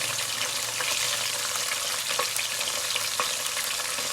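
Cashews, almonds and grated coconut fry in a pan while being stirred together, giving a steady, close sizzle with occasional scraping clicks throughout and no voices.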